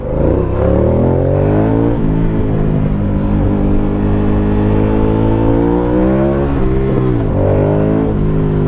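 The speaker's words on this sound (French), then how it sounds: "Une sonorité, le bicylindre, il chante bien comme pot d'origine." Aprilia Caponord 1200 twin-cylinder motorcycle on its stock exhaust, revving loud and close in a sustained, rising and falling engine note with a few throttle blips, heard alone without talk.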